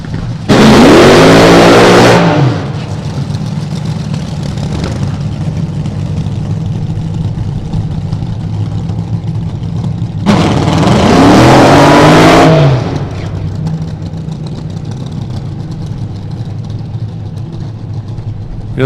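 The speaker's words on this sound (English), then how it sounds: "they just don't do long enough burnouts" An injected nitro drag racing car does two short burnouts at a drag strip in Las Vegas, each a loud, harsh roar of about two seconds over a steady low engine rumble, close by.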